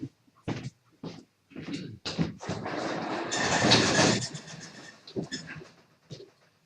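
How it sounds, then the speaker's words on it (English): A big workshop door is lowered in a woodworking shop: scattered clunks lead into a long rattling, rolling rush that swells and then fades back to isolated knocks. "And I'll drop the other door, the big one."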